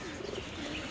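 Racing pigeons give a soft, low coo in one brief, faint burst over a hushed background.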